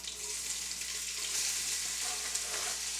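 Vegetables frying in a pan with crisp bacon for clam chowder, a steady close hiss and crackle of sizzling fat that stays even throughout with faint stirring.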